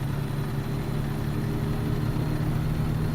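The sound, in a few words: Cummins X15 truck engine idling, truck driving video game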